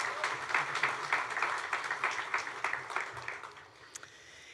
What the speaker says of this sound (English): That deserves a round of applause on its own.